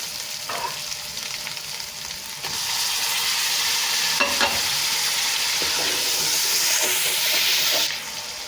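Chicken and masala fry as tomatoes and green chillies go into the pan. A quiet hiss swells into a loud, continuous sizzle with scattered stirring clatters, close by and with no talk.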